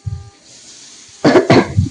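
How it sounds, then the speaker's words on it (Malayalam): A person at home in a village kitchen gives two quick, close, harsh coughs in succession, preceded by a soft throaty murmur. "ചുമ വരുന്നു സംസാരിക്കാൻ പറ്റുന്നില്ല"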